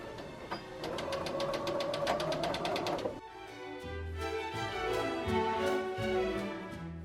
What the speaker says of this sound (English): Okay, now we're going to sew.